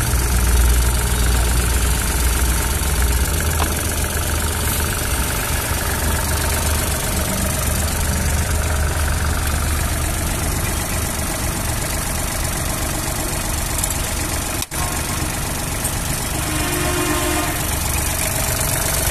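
A Hinomoto N198 tractor engine idles steadily and close by, with a smooth low rumble and faint knocking beat that holds evenly for the whole stretch, with no voices over it.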